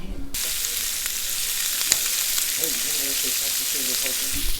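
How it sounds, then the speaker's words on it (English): Steady, continuous sizzling of sausages frying in a pan, with faint background chatter underneath. "Sausage Sizzle Part 3"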